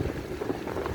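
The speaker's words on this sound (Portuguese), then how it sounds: "Vento forte, hein?" Strong wind during a storm in Curvelândia, Mato Grosso, roars steadily and loudly across the microphone in a dense, continuous rush for about a second.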